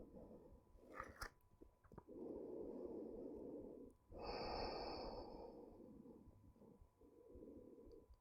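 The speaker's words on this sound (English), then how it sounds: "Deep breathing." Deep breathing during a gentle yoga session, soft close inhales and exhales in slow long waves, quiet and intimate with a few small nasal and mouth sounds between breaths.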